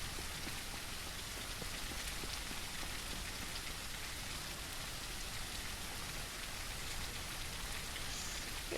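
Steady rain in the zombie survival video game Surroundead, a constant dense hiss of drops falling on surfaces, unbroken and even throughout with no voices.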